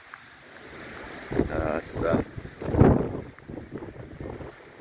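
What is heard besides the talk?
wind at outdoor cricket ground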